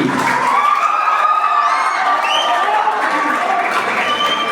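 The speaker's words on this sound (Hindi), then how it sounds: "जोरदार तालियां यूक्रेन के लिए" A student debate audience applauds and cheers for Ukraine's team, a dense, sustained wash of clapping with shouts and cheers running steadily throughout, loud and close.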